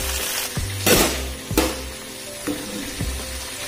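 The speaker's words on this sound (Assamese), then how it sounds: "আৰু এইফালে এয়া ভেন্দি ফ্ৰাই কৰি আছোঁ" Okra frying in a pan sizzles in a steady broadband hiss. Several louder stirring scrapes and clatters break in about every half second to a second, close and fairly loud.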